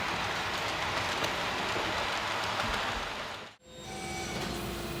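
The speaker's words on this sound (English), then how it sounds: "Our locomotive, the Rail Line 189, now configured individually, is pulling a freight train across the layout." A Märklin model locomotive, a Rail Line class 189, pulls a freight train across a layout: a steady, close rumbling hiss that cuts off abruptly, followed by a quieter, thinner running sound.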